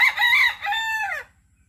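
A single loud fighting rooster crow rings out close by, a rising then falling cock-a-doodle-doo lasting about a second before silence.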